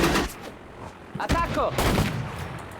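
Battle gunfire from the real-time strategy game Sudden Strike 4, set in a North African desert war campaign: loud, dense bursts and volleys crack repeatedly across the clip, with a brief voice-like sound mixed in midway.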